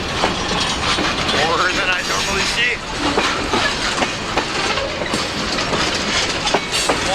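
A long freight train rolls past close by, its tanker cars at the tail, with steady wheel clatter and rumbling cars filling the whole stretch while someone talks over it.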